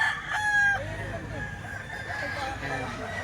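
A rooster crows loudly and close by at a Philippine chicken market, its call rising then trailing off, followed by clucking and other fowl sounds in the background.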